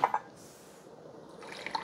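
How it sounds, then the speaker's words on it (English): Coffee from a Mr. Coffee 12-cup glass carafe drips and trickles into a cup, with a couple of brief bright drips up front, a quieter steady pour, then splashing again near the end. "Okay, so let's see how the carafe pours."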